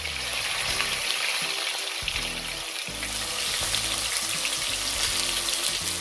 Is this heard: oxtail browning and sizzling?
yes